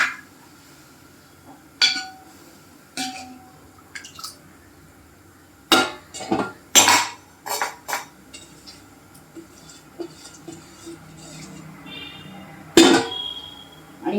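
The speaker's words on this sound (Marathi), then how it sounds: "छानपैकी हलवायचे." A spoon scrapes and clinks against a metal pot while stirring taro leaf curry, giving several close, sharp knocks spread out over quiet background stretches.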